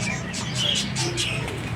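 A bird calls from a tree in repeated short chirps and coos, close and fairly clear over a low background rumble.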